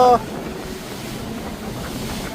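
Strong sea waves rush and roar continuously beside a yacht at Old Mina Port in Doha, amid gusting wind buffeting the microphone, after a brief tonal sound at the very start.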